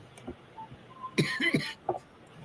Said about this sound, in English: that one just made me cough just a little bit